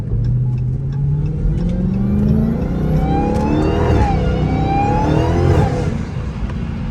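A Dodge Hellcat's supercharged engine revs hard while driving in morning traffic, climbing in loud, close pitch sweeps with a rising supercharger whine, then easing off toward the end.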